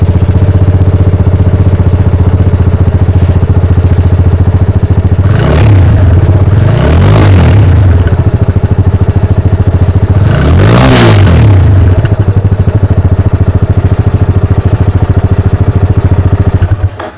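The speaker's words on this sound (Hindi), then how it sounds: "तो फाइनली अगर बात करें इसके एग्जॉस्ट साउंड की तो उसको भी एक बार हम" Yamaha FZ25 250cc motorcycle exhaust, a steady loud idle broken by two sharp throttle blips and a longer rev that rises and falls before settling back to idle, then cutting off at the end.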